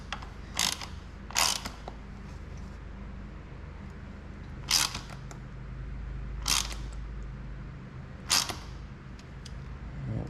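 A ratchet clicks in five short, crisp bursts spaced a second or more apart while handlebar clamp bolts on a 2018 Honda CB500X motorcycle are tightened, close and quiet against a low background hum.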